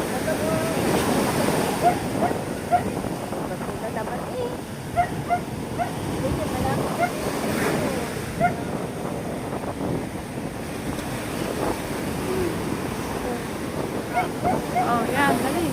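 Big ocean waves surge and roar near a fishing boat carrying nets, a continuous rushing wash mixed with wind buffeting the microphone, as people shout and talk over it.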